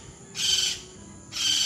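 Finches in a farmhouse aviary give two bursts of bright, high chirping, each lasting about half a second, separated by a short quiet gap and fairly close to the listener.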